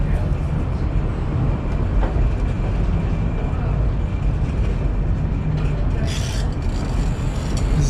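Pittsburgh incline funicular car climbing the hill, a steady low rumble and rolling rail noise throughout, with a brief higher screech near the end; faint talk in the background.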